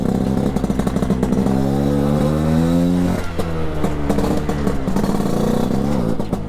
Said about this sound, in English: You'll hear the sports exhaust system.